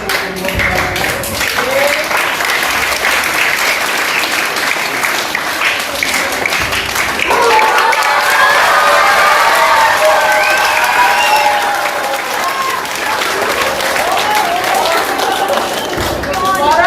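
A crowd at a children's Islamic gathering gives sustained, loud applause, with voices and cheering rising over the clapping midway before the applause carries on to the end.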